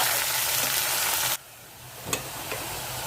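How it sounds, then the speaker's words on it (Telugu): Onions, green chillies and salt fry in a pan with a loud, dense close sizzle for over a second. It cuts abruptly to a quieter hiss, broken by a sharp scrape or knock and a fainter one. "ఎర్రగా వేగిపోవాలి ఉల్లిపాయలు"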